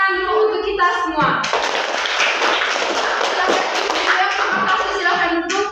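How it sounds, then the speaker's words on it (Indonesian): A crowd of children and adults at a school gathering breaks into loud, dense clapping, framed by a speaking voice before and after. "Tepuk tangan dulu untuk kita semua."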